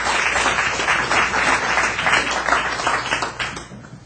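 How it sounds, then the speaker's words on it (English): An audience at a talk at the Vibrant Living Expo applauds with dense, continuous clapping that holds steady for several seconds, then trails off toward the end. "So let's give a round of applause for Frederic."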